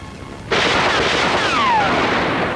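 A single loud gunshot rings out in a 1979 Pakistani film scene, a sharp blast followed by a long, rolling echo that fades over about two seconds.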